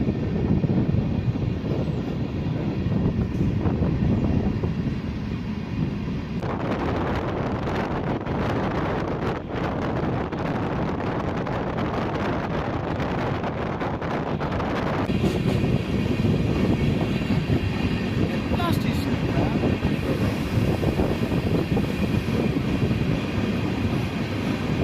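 The Mangalore-Chennai Mail with new LHB coaches rolls along, a steady loud rumble and rattle heard from aboard with wind buffeting the microphone and the tone shifting partway through.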